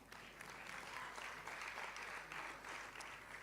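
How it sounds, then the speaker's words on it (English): Lecture attendees clap for the college, a fairly faint, pulsing spell of applause that swells and eases in waves with a low hum underneath. "Clap for the college for discernment."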